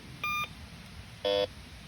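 Metal detector being set up in wooded Appalachian terrain gives two separate electronic beeps, a short higher tone followed a second later by a lower, louder one, against a faint hiss with no talking.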